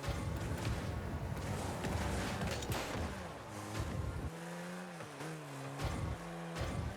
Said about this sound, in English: I don't know what that boost is, but it seems like a jet engine